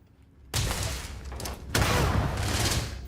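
An incendiary grenade exploding on impact in the Starfield video game, two loud close bursts of blast noise roughly a second apart, rumbling and crackling without speech.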